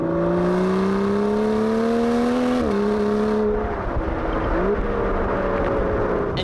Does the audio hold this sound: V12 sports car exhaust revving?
yes